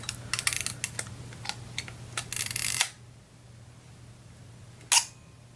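A Zeiss Ikon Voigtländer Icarex 35S BM film camera is handled: rapid small dial clicks, then a sharp shutter opening click in bulb mode, a quiet pause while it stays open, and a second crisp close click near the end.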